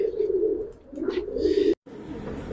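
Giribaz pigeons coo softly in a loft, low rolling calls repeating close by, broken by a brief silent gap before the cooing resumes.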